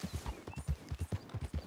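Horse hooves in the video game Red Dead Redemption 2, a quick, regular clip-clop of about a dozen muffled thuds at a trot, fairly faint with no talk.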